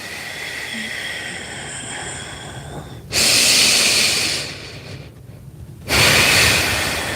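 Slow breathing during a bedtime stretching workout: a long, soft inhale followed by two loud, airy exhales in a calm, unhurried rhythm, close to the microphone, with no talking.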